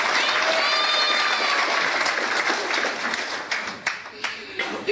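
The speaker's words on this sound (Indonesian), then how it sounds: "Tepuk tangan untuk dia." Audience applause with crowd noise at a religious talk, loud and continuous from the start, with a voice speaking over it briefly and the clapping gradually thinning toward the end.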